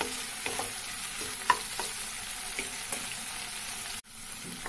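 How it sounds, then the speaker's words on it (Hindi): Steady sizzling of soaked red chilies frying in hot oil for momo chutney, with occasional soft scrapes and clicks of a spoon stirring the pan. "और इसे 2 मिनट तक भून लेंगे।"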